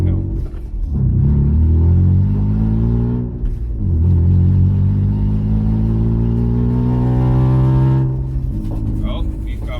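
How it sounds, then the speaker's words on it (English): Loud sedan engine droning while driving, a strong low rumble with rising and falling revs across the clip, close and continuous. "This car's so loud, it doesn't help."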